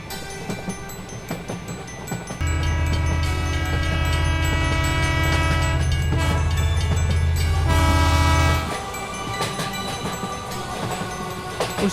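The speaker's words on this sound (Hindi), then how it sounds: "अब इन लोगों की ट्रेन भी चल देती है" A cartoon train starts and rolls along, with a steady loud low rumble, a long sustained horn-like tone partway through and clattering that continues after it, all with no talking.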